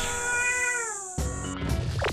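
Two cats, one a neighbour's yard cat, square off in a rural house yard, with a drawn-out rising and falling yowl followed by a sudden harsh scuffle of hisses and screeches, fairly close.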